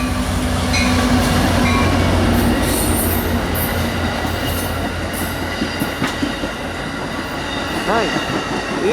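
A College Park station train with jet car 8312 rolls past close and loud, a dense steady rumble with rail clatter and wheel squeal tones, the noise easing slightly toward the end as it moves away.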